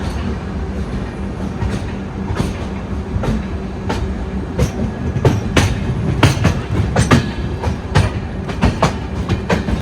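A passenger express train arriving at Lalgarh Junction near Bikaner, with loud, steady clickety-clack of wheels over rail joints and a continuous rumble heard close from onboard.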